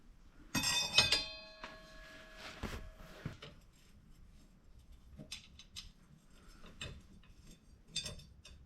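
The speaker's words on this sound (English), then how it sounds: "Now let's get the rotor on." Metallic clinks and clunks ring close by as a brake rotor is handled and fitted onto a rear axle, with scattered knocks and rattles between quieter pauses.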